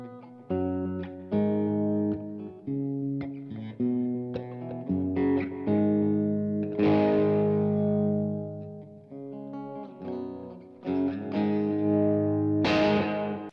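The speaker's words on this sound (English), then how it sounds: "And then I prefer a little bit of a tape echo, like this." Electric guitar chords and single notes played at a relaxed pace through a Source Audio Collider pedal, each followed by soft repeating tape echo delays that trail away.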